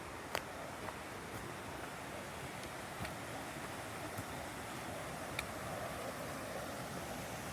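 A steady, broadband rush of falling water from Comer's Creek Falls fills the scene, constant and fairly loud, with a few faint clicks over it.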